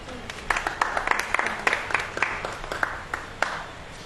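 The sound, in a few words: audience clapping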